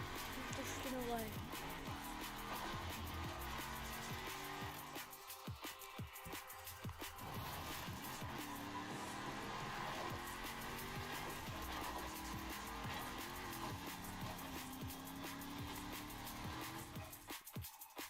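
Car drifting in the video game Forza Horizon 4, sustained engine roar with long squealing tire skids, loud and continuous, with a person talking over it.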